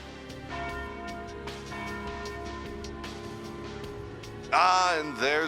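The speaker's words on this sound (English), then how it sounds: "Ah, and there's the noon bell." Noon bell ringing out over a carnival setting in the video game Trails through Daybreak, a loud bright peal with wavering overtones that breaks in near the end after a quieter stretch of background music.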